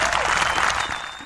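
A brief burst of applause for the Duke Blue Devils on a March Madness broadcast, dense clapping that fades slightly toward the end.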